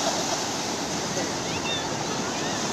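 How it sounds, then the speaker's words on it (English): Atlantic Ocean surf on a Brazilian beach makes a constant broadband wash of breaking waves, with a faint voice briefly audible beneath the steady roar. "This is the ocean here, the Atlantic Ocean."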